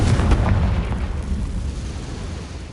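The Confringo explosive spell going off in the Hogwarts Legacy video game: a loud, booming blast with a short burst at the start and a low rumble that trails away, heard alone.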